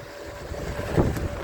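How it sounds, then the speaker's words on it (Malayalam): A wooden fishing boat nears the shore at Vizhinjam harbour in the evening, a low engine rumble mixed with wind that swells slightly toward the end of the short stretch. "വേറൊരു വള്ളം വരുന്നുണ്ട്"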